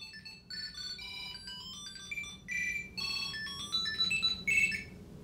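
A Tile Mate Bluetooth tracker rings with a bright, fairly quiet electronic melody of quick high beeping tones that repeat and swell slightly louder toward the end, with no talking.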